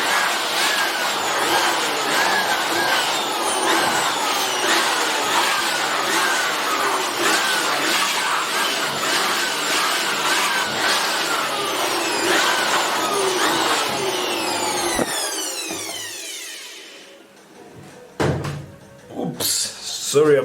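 Compressed air blasts steadily into a Canon DR-M140 imageFormula scanner to clear out dirt, a loud continuous hiss and roar for about fifteen seconds before fading, followed by a few brief clatters.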